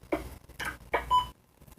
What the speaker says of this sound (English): when you transmit, you get that cool little beep that comes back to you